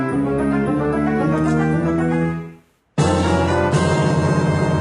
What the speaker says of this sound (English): That's the sound of Link opening a chest in any Zelda game ever.